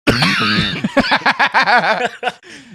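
A man gives a hoarse, drawn-out cough, followed by a string of short raspy bursts and snickering, close and loud.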